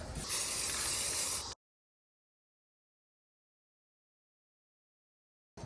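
A spray can of black matte Rust-Oleum paint hisses in one steady, close burst lasting about a second and a half while coating a rusty van roof rack, then cuts off into silence.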